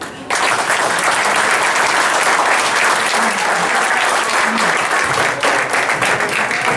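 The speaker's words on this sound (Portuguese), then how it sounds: "para o 181 eu gostaria de uma salva de palmas" Sustained, dense applause from a crowd at a reunion lunch of former scouts in Silves, loud and steady for nearly seven seconds after a brief quiet start.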